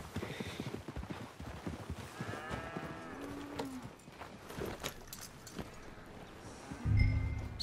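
Horse hooves clip-clop at a slow walk in the Red Dead Redemption 2 video game, a steady near rhythm over a background of farm ambience, with a deep low thump near the end.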